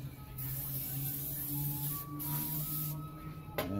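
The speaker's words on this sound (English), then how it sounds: "let me get this little cooking spray" Cooking spray hisses from a can onto a barbecue grill outdoors, a couple of close, steady bursts with brief pauses between them, no talk.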